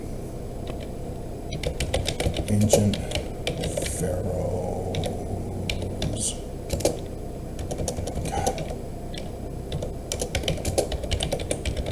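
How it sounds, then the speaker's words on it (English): Rapid clicking of keyboard keys, steady and close, with a voice speaking briefly over the typing. "I'm gonna start typing."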